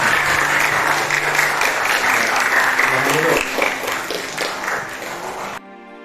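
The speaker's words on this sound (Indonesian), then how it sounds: "Tepuk tangan dong buat" Audience applause at a teachers' school presentation, a sustained dense patter of many hands that thins and fades toward the end before cutting off, with some faint voices mixed in.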